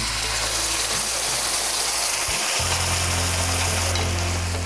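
Tomato drops into hot oil with onion and chili and hisses in a loud, steady, close sizzle. A low steady hum runs underneath and briefly dips midway, and no one talks.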